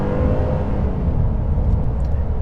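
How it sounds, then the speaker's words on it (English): A 2024 Honda Ridgeline Trailsport downshifting on its own while driven briskly, a steady low engine and road rumble heard from inside the cab, loud and continuous with no talk. "this vehicle will downshift for you."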